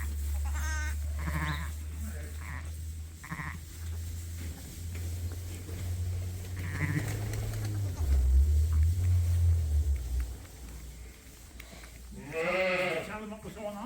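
Sheep and lambs bleat on a farm, several wavering calls scattered throughout, one loud and close near the end, mixed with people talking and low background rumble.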